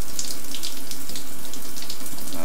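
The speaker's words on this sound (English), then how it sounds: "I'm taking a shower." Shower water running in the video game Stationeers, a loud, close, continuous hissing spray with no pauses and no speech.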